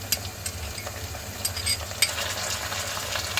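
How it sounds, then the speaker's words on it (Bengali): Ginger garlic paste frying in a pan with browned onions for a Lucknowi meat dish, giving a steady soft sizzle with occasional stirring scrapes and small pops, close and alone without talk. "এবার আদা এবং রসুন বাটাটা ভালোভাবে ভুনে নিব পেঁয়াজের সাথে, যাতে কাঁচা গন্ধটা চলে যায়"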